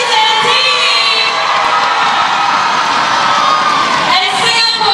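A packed arena crowd cheers loudly for the Malaysian side at a SEA Games netball final against Singapore, with sustained whoops and shouting that stay dense throughout.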